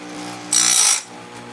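Grinder sharpening chainsaw chain teeth in a single short pass lasting about half a second, a loud bright grinding burst over a steady motor hum.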